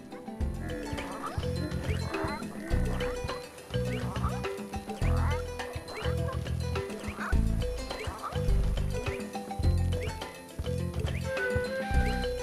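Bouncy soundtrack music from the video game Donkey Kong Country: Tropical Freeze plays steadily for the whole stretch, with rhythmic low-end hits and quirky, squawking melodic sounds on top.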